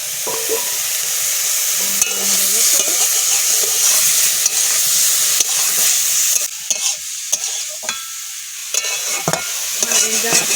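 Food sizzles loudly in a hot pan while a utensil stirs and scrapes through it, a steady hiss broken by repeated stirring knocks, with no talk.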